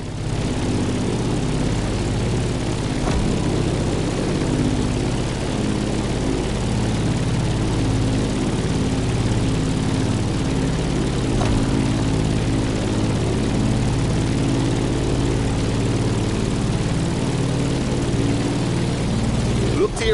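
Propeller airplane climbing in the video game The Crew Motorfest, a constant loud droning engine and prop hum that holds steady throughout, with a voice talking over it.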